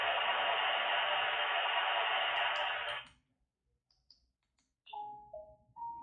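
A smart video baby monitor camera plays a steady band-limited white noise hiss for about three seconds, then cuts off, followed by faint clicks and short electronic beeps and tones.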